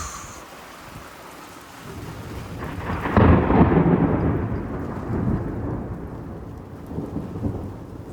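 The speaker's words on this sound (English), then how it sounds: "This is one of those powerful lightning storms I've ever experienced." A powerful lightning storm over the Grand Canyon, with steady rain hissing on a surface as a loud, close thunder crack bursts out and then rolls away in a long, fading rumble.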